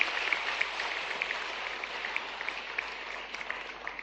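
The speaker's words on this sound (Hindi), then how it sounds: "जोरदार ताली बजाओ" An audience at a higher education event applauds steadily, a dense sustained clapping that carries on without pause and tapers slightly toward the end.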